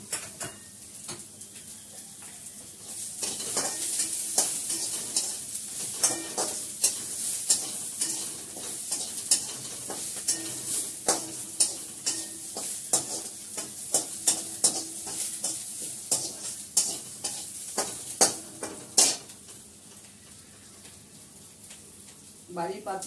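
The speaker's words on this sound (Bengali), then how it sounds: "বাড়ির পাতা দই বার করে নিয়ে ফেটিয়ে রাখছি" Homemade sour curd (yogurt) whisked briskly in a bowl for a Bengali doi fish curry, giving close, rapid, uneven scraping clicks that run steadily throughout.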